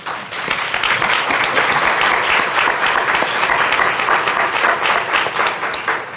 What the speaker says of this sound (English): Please join me in a rousing round of applause for Verizon,